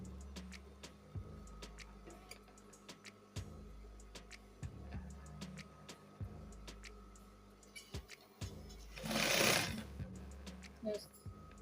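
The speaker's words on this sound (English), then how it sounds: "and then you sew." A sewing machine stitches the seam of a flare dress in short bursts of rapid mechanical whirring separated by pauses, with faint clicks and a brief rustle of fabric near the end.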